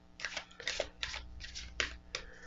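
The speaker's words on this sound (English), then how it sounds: "I love how they shuffle" Deck of oracle cards being shuffled by hand, a quick series of crisp riffling bursts, close and fairly quiet, with no talking.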